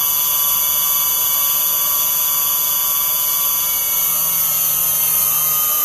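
A new CNC spindle motor driven by an inverter runs at a little under half speed, about 12,000 RPM, giving a loud, steady high-pitched whine with constant tonal hum throughout.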